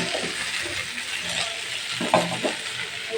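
Fish sizzles steadily in a hot frying pan for a curry, a dense close crackle with a few utensil stirs and light clinks near the end, and no voices.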